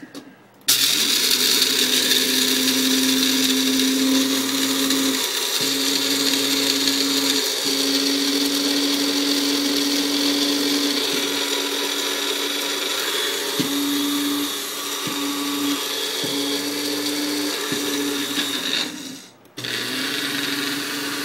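An electric grinder crushes coffee beans for oatmeal, a steady high whirring motor that runs nearly twenty seconds with small pitch dips and stutters, starting and stopping abruptly.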